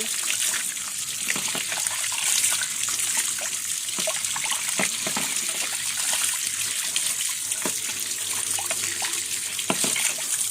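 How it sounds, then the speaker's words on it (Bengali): Tap water runs steadily over boiled noodles in a strainer as they are rinsed, a continuous close splashing hiss with occasional small clicks and knocks. "ভালোভাবে ধুয়ে নিচ্ছি"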